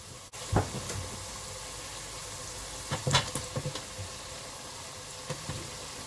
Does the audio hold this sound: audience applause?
no